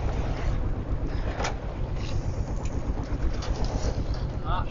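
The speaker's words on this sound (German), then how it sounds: "Jetzt füllt sich das Segel mit Wind und es geht weiter." A sailboat running under jib and mainsail off Mallorca, with steady wind roaring and buffeting across the microphone and faint creaks and rustles of rigging beneath it.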